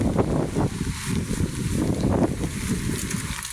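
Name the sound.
strong wind at flooded river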